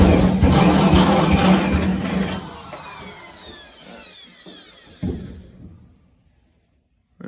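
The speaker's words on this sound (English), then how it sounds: "go ahead and use the step drill. I'm going to buzz right through this" A step drill bores a half-inch hole through metal on a 1968 Firebird during a console and shifter install, giving a loud, close grinding whine that fades and stops with a few clicks.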